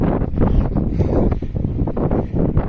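Strong seaside wind buffets the microphone in a constant low roar with gusty surges, loud and close, no voices.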